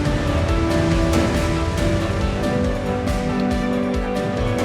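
Ocean surf at Bondi Beach, Australia: a constant, loud wash of breaking waves and churning water that never pauses, with no voices.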